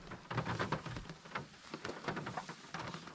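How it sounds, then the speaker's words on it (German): Rain falls in a gorge setting, a soft, irregular patter of drops spread across the moment, moderately near and fairly quiet, with no talking over it. "Ja Leute, es regnet."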